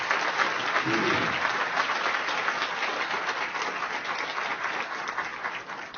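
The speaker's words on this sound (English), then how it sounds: "Can we please give all of them a huge round of applause?" Sustained round of applause from an audience at a mayoral press event in Philadelphia, dense clapping steady and fairly loud throughout, tapering only slightly toward the end, with no clear talk over it.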